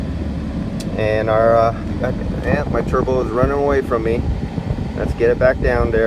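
A diesel engine with a runaway turbo revs up and falls back down in uneven surges close by, whining and roaring beneath someone talking.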